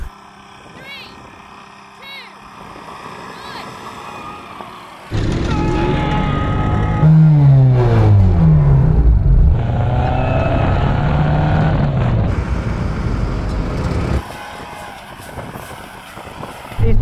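Three-wheeled vehicle engine in a drag race, loud and close, surging and climbing in pitch through repeated rising sweeps before easing off, with talk over the top.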